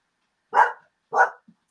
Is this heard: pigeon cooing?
no